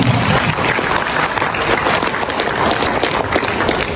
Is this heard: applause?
yes